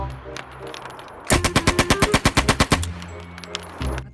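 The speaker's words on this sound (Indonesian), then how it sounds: "Ternyata di sini ada tembakan MP40." A rapid burst of MP40 submachine gun fire as a sound effect, about a dozen sharp evenly spaced shots, loud and close, with quieter background sound before and after.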